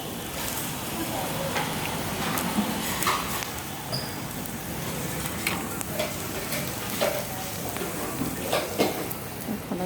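Pork sizzles steadily on a hot tabletop grill, a dense crackling hiss with occasional clinks and faint voices in the background.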